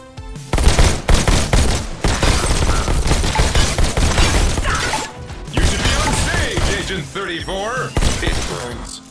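Rapid bursts of shotgun blasts and gunfire from the VR shooter game Robo Recall, loud and close, with mechanical clatter and a voice speaking over the shots.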